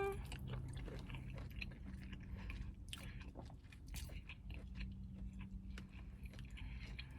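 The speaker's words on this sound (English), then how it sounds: "I'm gonna try the shrimp." Someone eating Jamaican-style shrimp up close, with wet bites, chewing and soft crunches in an irregular rhythm, no speech over it.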